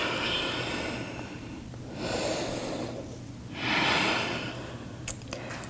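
Slow, audible breaths during a yoga forward fold to stretch the backs of the legs: a long airy exhale, a soft inhale, then another strong outward breath, close and alone.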